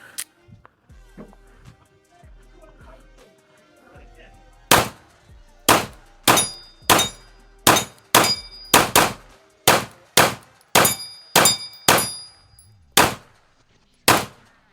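A PSA Micro Dagger pistol with a C1 slide fires a full magazine outdoors, a run of about a dozen loud, sharp shots in an uneven rhythm, the earlier ones with faint ringing clangs and quiet noise beneath.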